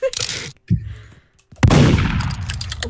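Gunfire in the Roblox game Murder Mystery 2, with sharp shots bursting in loud and close, a brief lull, then a sustained dense volley of noisy blasts filling the second half.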